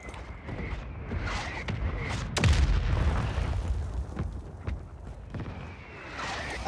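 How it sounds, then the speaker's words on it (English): Booming mortar strike explosions land in a first-person shooter match, one heavy low blast near the middle standing out over a busy bed of game rumble, creaks and distant gunfire. "There's a mortar on it."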